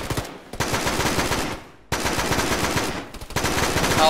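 Sustained RPK machine gun fire in a tactical shooter game, long loud bursts of rapid shots separated by two short pauses, close and dominant.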